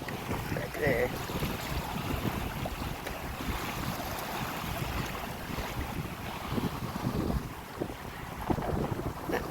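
Wind buffets the microphone continuously aboard a small 14'6 gaff-rigged Post Boat cruising in Greece, with a rushing, gusty roar and faint water sounds underneath.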